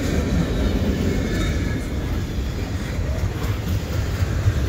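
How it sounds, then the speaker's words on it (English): A CP or CN freight train rumbles past through a winter blizzard at Dorval at twilight, a loud, continuous low roar of rolling wagons with steady wheel noise and no pauses. "I do like these freight trains at twilight like this"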